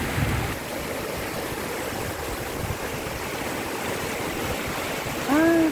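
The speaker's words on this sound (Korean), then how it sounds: "아주 물소리가 아주 시원하고 좋네요" A clear mountain stream flows through the countryside near Hayang, Gyeongsan, as a steady, close rush of water that fills the scene, with a brief chirp rising above it near the end.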